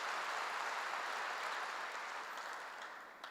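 A church congregation claps together during a Korean sermon, a soft, even roar of many hands, fairly distant, that slowly fades toward the end with no talking.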